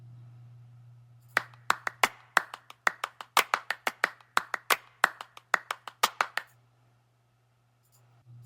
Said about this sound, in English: I'm gonna look for some clap, like a clap loop in Splice